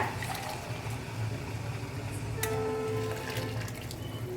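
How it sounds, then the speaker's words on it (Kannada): Hot water poured into a pot of rice for biryani, giving a continuous near splashing and gurgling stream under faint kitchen background. "ಬಿಸಿ ನೀರನ್ನೇ ಹಾಕೋಬೇಕು"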